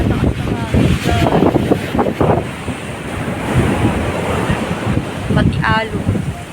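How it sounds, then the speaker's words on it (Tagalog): Strong wind buffets the microphone while waves surge and break on White Beach, Puerto Galera, in loud uneven gusts, with muffled voices talking in the background. "Sobrang lakas ng hangin dyan."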